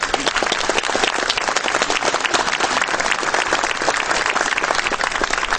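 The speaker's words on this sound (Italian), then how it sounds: "dal calore dell'applauso mi pare di capire che l'intervento del dottore Lillo Pizzi è stato gradito" A hall audience gives warm applause after Dr. Lillo Pizzi's talk at an event on the history of Condofuri, with loud, thick clapping that stays continuous and even throughout.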